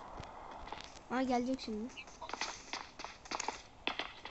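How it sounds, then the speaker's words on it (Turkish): Footsteps approach in the PUBG video game as a series of quick, soft taps growing more frequent, heard beneath a player's excited talk. "Hayır hayır, ayak sesi geliyor lan şuradan."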